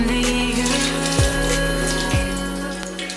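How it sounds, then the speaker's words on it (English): Running tap water pours over brown rice being washed, a steady close splashing stream with a soft song playing underneath. "I generally take brown rice and I just wash off all its dust particles with water"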